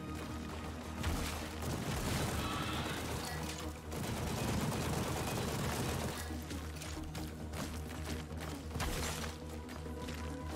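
Gunfire in the VR shooter After the Fall, rapid, continuous bursts of shots rattling over a dense, loud combat din, with brief lulls between volleys.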